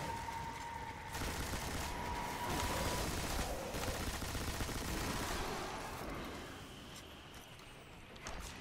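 Heavy machine gun fire in the video game Destiny: a steady, dense stream of rapid shots lasting several seconds, then tapering a little quieter toward the end, with no voices.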